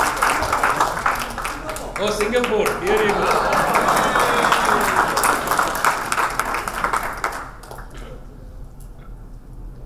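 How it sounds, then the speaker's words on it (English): A crowd at a hackers meetup in Chennai claps in a full round of applause that swells and then fades after about eight seconds, with people talking over and after it. "let's give a big round of applause for the person who's traveled the farthest to come here"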